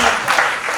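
A live audience at a motivational talk breaks into loud, dense applause that fills the moment, steady and close.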